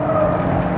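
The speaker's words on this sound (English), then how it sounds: "I'll just lift it through here and let the tail come out." A 1980s Subaru slides with the tail out, a loud, sustained engine roar with a thin squeal from the tyres across the brief moment, heard up close.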